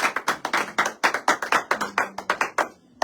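A church congregation claps in steady rhythmic unison, sharp hand claps repeating at a quick, even pace before trailing off near the end.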